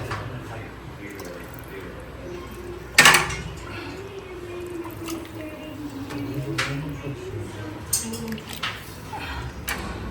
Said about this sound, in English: Cutting is going on. This knife is very sharp.